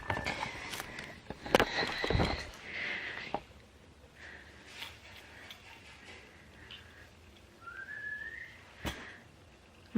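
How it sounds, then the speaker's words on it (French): Several short whistled notes ring out, including a rising slide, mixed with some clicks and sniff-like noises nearby. "Je sais pas si vous l'entendez, il me siffle."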